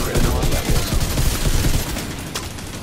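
Rapid bursts of gunfire crackle densely for a few seconds, a loud continuous fusillade from enemy NPCs in the shooter game The Division 2.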